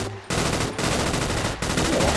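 Gunfire from a weapon being tested in GTA 5, heard as dense, continuous shooting in loud sustained bursts that fill the clip, broken by two brief gaps, with no talking.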